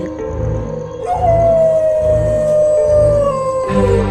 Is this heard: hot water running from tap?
no